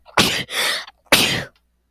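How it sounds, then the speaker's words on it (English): Three sharp, close sneezes in quick succession, the first two nearly back to back and the third after a short pause, then silence. "Yup, you heard my sneeze."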